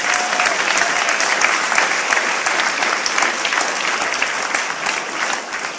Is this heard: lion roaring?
no